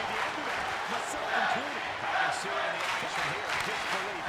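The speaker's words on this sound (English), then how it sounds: "Listen to the crowd. They're going bananas for these teams." A large wrestling crowd roars and cheers continuously, dense and loud, with scattered shouts and whistles rising above the steady din of an arena.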